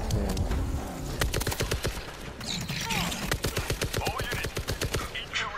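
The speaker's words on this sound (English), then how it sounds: "Don't shoot. You shooting me." Rapid automatic gunfire in the zombie shooter World War Z, heard as dense bursts of sharp shots in quick rhythmic volleys, loud and near, with other game effects around them.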